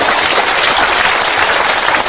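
Steady applause from an audience, a dense continuous clatter of clapping that holds at an even, fairly loud level throughout.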